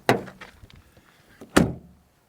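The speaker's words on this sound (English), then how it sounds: "quite tinny door opening sounds" A 2025 Renault 5 electric car has its door opened twice, each time with a close, thin, slightly tinny clunk. The two short bursts are about one and a half seconds apart, with quiet rattles between them.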